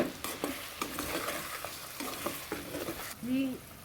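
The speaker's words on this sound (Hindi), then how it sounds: "इसको हमने 5 मिनट भून लिया लहसुन अदरक डाल के" Garlic, ginger and turmeric fry in a pan with a steady low sizzle and repeated scrapes of a stirring spoon, close by, with no speech.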